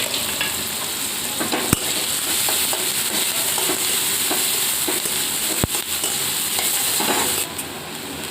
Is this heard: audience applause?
no